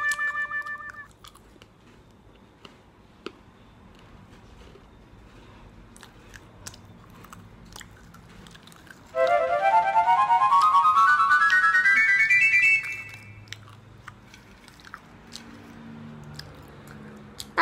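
Close-up chewing and crunching of fried banana chips that are slightly chewy, from a crispy snack assortment, with scattered bites and crunches and a loud rising electronic tone sweeping through the middle.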